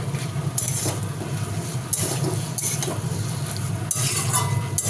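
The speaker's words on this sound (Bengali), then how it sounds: "এদিকে মরলা মাছটা ভাজা হচ্ছে" Mola fish fry in a pan on low gas, a soft continuous sizzle under periodic clinks and stirring scrapes of a utensil against the pan, no talking.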